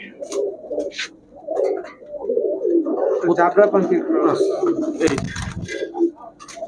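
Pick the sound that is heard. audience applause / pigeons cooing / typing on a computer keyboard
pigeons cooing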